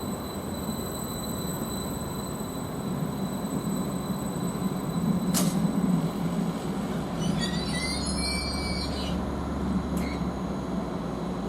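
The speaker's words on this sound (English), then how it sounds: "And we'll get more of this train when it departs." A train at Derby Road station rumbles steadily close by for several seconds, with wheel squeal and high metallic screeching midway and a couple of sharp clanks, no voices.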